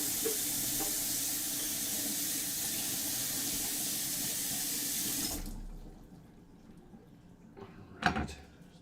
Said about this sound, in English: Wash this knife real quick.